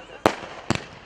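Firecrackers set off during a cricket match, two sharp bangs about half a second apart, the second a quick double crack, each ringing out loudly over faint background chatter.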